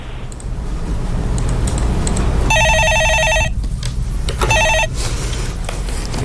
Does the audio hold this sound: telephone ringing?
yes